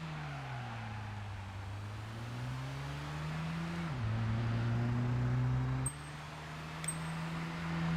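Gran Turismo 5 race car engine drones continuously, rising and falling as it accelerates and slows for braking, with a few faint clicks near the end and no voices.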